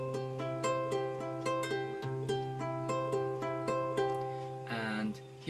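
A beginner's simple chord on a plucked string instrument, notes picked in a steady repeating pattern with sustained ringing tones, close and moderately quiet, ending with a brighter strummed chord.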